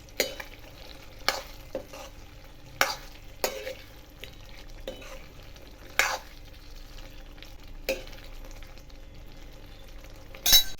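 A spoon scrapes and clinks against a frying pan in irregular strokes while oil sizzles softly underneath, stirring spices into bottle gourd curry.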